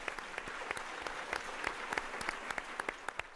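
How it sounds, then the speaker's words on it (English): Applause from an audience at an evening Loyola Academy fundraising gala for winning auction bidders: a short, faint burst of scattered individual claps, sparse and distant rather than a full roar. "Let's give a round of applause to our winning bidders here tonight."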